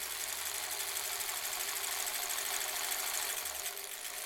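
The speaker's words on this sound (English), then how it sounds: "We're just assembly line sewing." A sewing machine stitching face masks in assembly-line fashion runs continuously with a fast, even mechanical whir, steady and close, easing slightly near the end, with no talking.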